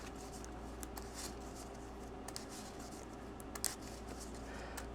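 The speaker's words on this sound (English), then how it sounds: "So we'll shuffle this a few times" A deck of playing cards is shuffled for a solo Marvel card game playthrough, giving faint, soft riffling and flicking textures with a few sharper snaps, quiet and close.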